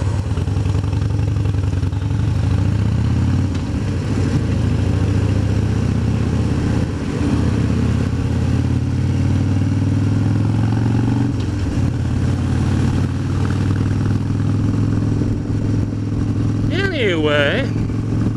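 A Harley motorcycle engine runs steadily at close range during a ride, a deep, even low rumble with small throttle changes and a brief clattering burst near the end.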